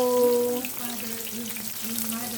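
Small tawilis fish fry in a pan with a continuous close sizzle and dense crackle of spitting oil. A faint tonal hum runs underneath.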